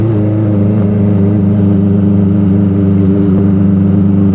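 A Kawasaki ZX-25R Limited Edition motorcycle's engine runs loud and close in a steady, smooth, high-pitched drone that holds an even pitch throughout with no pauses.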